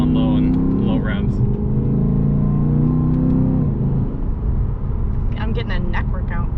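A 2021 Lexus RC F engine revving hard under acceleration, a loud, droning in-cabin roar that holds steady for several seconds, with someone talking over it.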